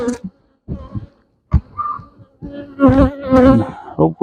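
Honeybees buzzing around a hive as supers are added outdoors in the morning, close insect drones and whines coming in short bursts with brief gaps between them.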